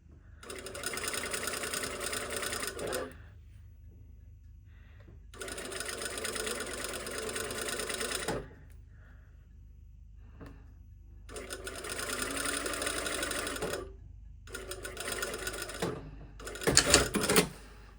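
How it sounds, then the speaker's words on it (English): A sewing machine stitches a second pass along the edge of a slash pocket in rapid, buzzing bursts of about three seconds each, with short quiet pauses between runs, fairly close and alone. "I'm just going to sew it as a second pass."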